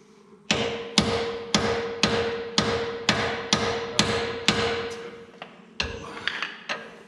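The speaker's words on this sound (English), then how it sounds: "Just tap it gently with the hammer to square it up" A hammer taps a ball joint on a Jeep TJ about a dozen times in a steady rhythm, each strike a sharp, ringing clank, close and fairly loud with no talking.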